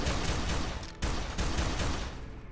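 Sustained rapid gunfire in the video game F.E.A.R. 3, a dense continuous burst of shots lasting a couple of seconds with no talking.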